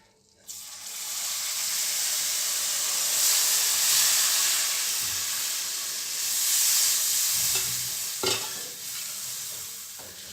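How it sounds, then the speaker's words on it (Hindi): Moong dal halwa sizzles and hisses steadily in a pan as milk goes into it, a dense, close frying hiss with a few stirring scrapes and knocks near the end. "हम अब इसमें अपना दूध शामिल करते हैं।"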